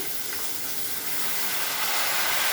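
Tomatoes tipped into hot oil already frying garlic and green chilli for a tomato pickle, giving a steady broadband sizzle and hiss that holds and swells slightly, close and fairly loud with no talking.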